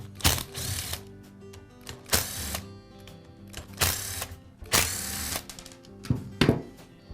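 Screws being backed out of the rear cap on a DeWALT hammer drill housing with a power driver, giving several short, loud whirring bursts spaced about a second apart and heard close up with no talk.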